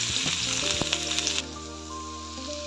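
Ginger and onion sizzle steadily in hot oil, a broad hissing crackle that starts loud and then settles to a softer, even sizzle; no one talks.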